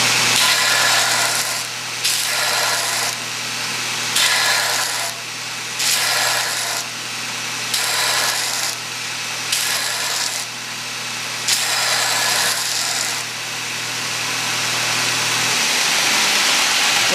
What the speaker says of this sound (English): I'll use a belt grinder to do it